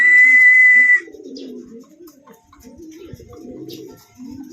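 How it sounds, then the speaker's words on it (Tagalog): A racing pigeon at a pigeon derby coos in low, soft repeated phrases close by, after a brief high whistle-like tone at the start. "Pangalawang ibon na natin yan mga boss."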